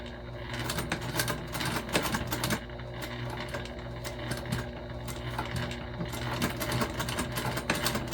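A sewing machine top-stitching a seam on a modified Lindsport Mini backpack, a rapid, steady mechanical clatter that runs without pause, close and moderately loud with no talk.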